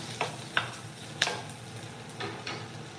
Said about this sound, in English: That's a good sear sound. We like that sound.